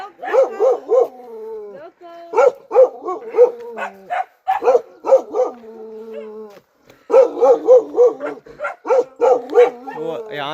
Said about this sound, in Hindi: दोनों एक साथ भौंक रहे हैं।